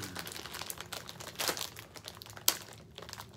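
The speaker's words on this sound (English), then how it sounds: "when I'm opening up some of these packages here. Guess my key will have to work for now." Crinkly plastic snack package, a bag of Inferno Candy Co Heat Wave Blistering Apple Pie Chex, being pried open with a key, giving close crumpling and tearing noises with a sharp snap near the end.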